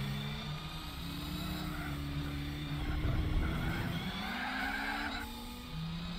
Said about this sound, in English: And the large amounts of wheel spin this car has in first.